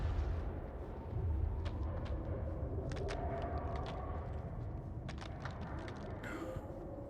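Explosives detonating in the video game House of Ashes, a continuous deep rumbling roar with scattered sharp blasts and debris crackle, loud and sustained throughout without talk.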